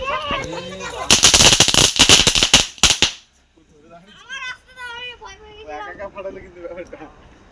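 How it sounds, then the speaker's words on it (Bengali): Firecrackers burst during a Diwali and Kali Puja celebration in a loud, dense crackling volley lasting about two seconds, then cut off abruptly, followed by children talking excitedly. "মা কালী বাজি ফুটাচ্ছে"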